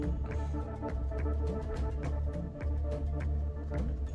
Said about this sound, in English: Just more horror movie music.